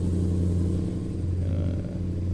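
A Scania R730 V8 truck engine rumbles with a deep, steady drone that swells slightly as it is wound up, close and loud with no talking.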